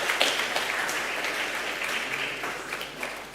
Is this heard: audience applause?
yes